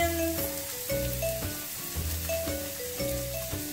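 Onions frying in a hot pan for chorizo hash give a steady sizzle with a faint tonal hum behind it, while a utensil pushes and scrapes the pieces around in a repeating rhythm.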